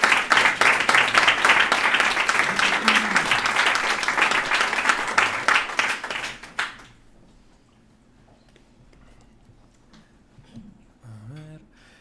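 A lecture audience gives the speaker a long, loud round of dense clapping that stops abruptly after about six seconds, followed by quiet room tone and a brief voice near the end.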